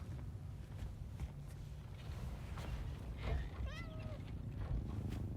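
A cat's short meow rises out of a game scene in Death Stranding 2, near and clear over a low rumbling background with scattered footsteps-like knocks.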